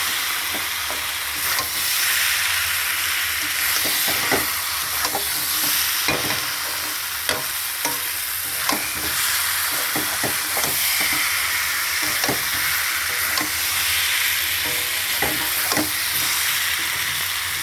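Water hits a hot pan of salted eggs and sets off a loud, continuous hissing sizzle, broken by scattered pops and utensil clicks, close up with no voices.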